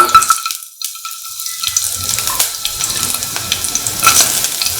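Shallots drop into hot oil in a pan and sizzle loudly and steadily, a close, continuous frying hiss after a brief quiet moment.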